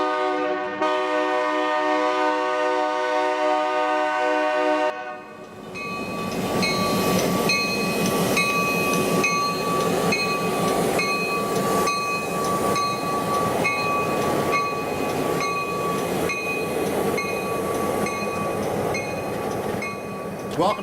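A passenger train passes at Rutland, Vermont, first sounding a long, loud multi-tone horn, then rumbling steadily by with rhythmic wheel clatter over rail joints for the rest of the stretch, close and continuous.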